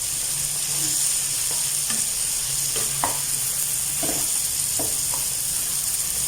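Chinese-style biryani sizzling steadily as it fries in a pan, with scattered scraping and clinking of stirring and mixing over a constant hiss; no voices.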